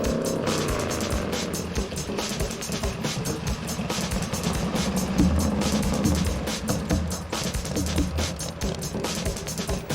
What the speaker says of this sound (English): Evel rode past on his bike.